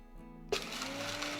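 Electric grinder whirring on roasted spices to make a fine powder, starting abruptly with a sharp onset and then running as a steady, fairly close motor whine.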